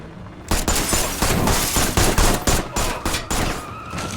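Rapid burst of gunfire in a thriller film scene, sharp shots fired in quick succession, loud and close with no talk.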